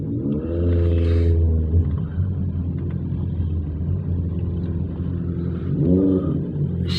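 Congested traffic on the Skyway elevated expressway in the Philippines, a steady low rumble of idling and creeping vehicles with engine swells near the start and end, no voices.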